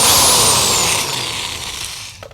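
A power drill with a step bit widens the volume potentiometer hole in the pickguard of a Squier Affinity Stratocaster, giving a loud, close whine that slowly drops in pitch as the bit bites, then tapers off near the end.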